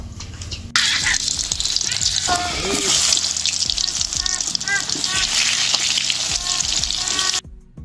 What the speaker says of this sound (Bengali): এইবারে আলু আর ডিম ভেজে নেবো